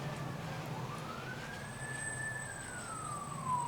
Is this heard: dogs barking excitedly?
no